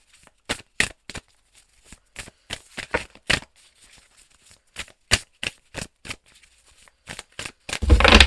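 Tarot cards shuffled for a reading, a series of crisp, close riffling slaps in an uneven rhythm with brief pauses, ending in a louder rustle.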